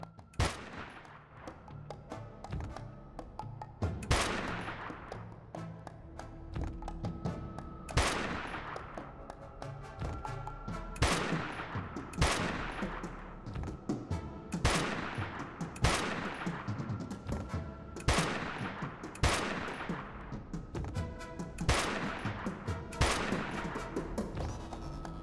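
Video game gunfire: single heavy shots ring out one by one, about every one to two seconds, each with a sharp crack and a short echoing decay over low game ambience.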